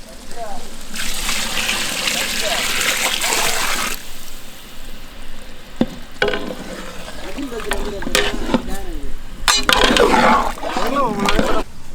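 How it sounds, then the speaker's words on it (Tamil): Water gushes and splashes in a steady pour into a pot of duck biryani, then stops; later come smaller trickles and splashes as voices talk over the kitchen sounds. "தேவையானதுக்கு தண்ணி சேர்த்துக்கலாம்."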